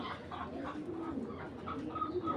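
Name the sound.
Giribaj tournament pigeons cooing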